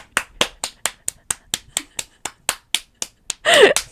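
Hand clapping from one or two people in a podcast-style setting: a steady run of sharp, close claps at an even rhythm, ending in a brief burst of laughter or voice.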